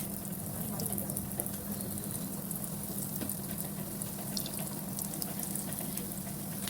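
Cheese balls frying in hot oil over a medium flame, a steady dense hiss and crackle of bubbling oil running unbroken throughout at even loudness, with no talk.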